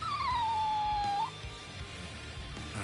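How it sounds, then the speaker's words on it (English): A dog in the video game Rebirth of Souls lets out one drawn-out, high whimper that slides downward and fades after about a second, leaving quiet background sound. "We thought it was just a stray dog"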